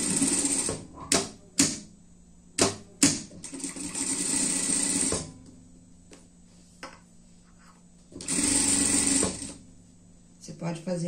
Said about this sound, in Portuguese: Você pode fazer essa parte aqui na overlock, tá?